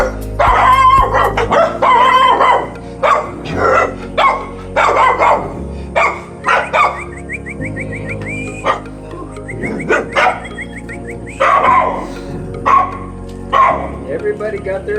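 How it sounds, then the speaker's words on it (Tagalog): Several dogs bark repeatedly at an outdoor cafe in Cebu, loud sharp barks and yips in bursts, with a rooster crowing in the background and people talking between them. "So mga ni mga sinagop na dogs guys."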